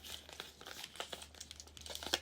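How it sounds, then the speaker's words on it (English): Animal oracle cards are handled close up, making soft, irregular crinkling and rustling with a few sharper flicks, all quiet and with no talking. "I just want to get my animal cards quickly."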